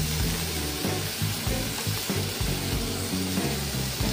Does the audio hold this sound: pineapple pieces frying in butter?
yes